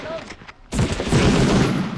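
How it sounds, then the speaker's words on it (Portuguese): A grenade explodes in the PlayStation 1 game Medal of Honor: after a few quiet clicks, a sudden loud blast rises and then rolls on as a dense, rumbling roar until the end. "O barulho de granada, eu acho."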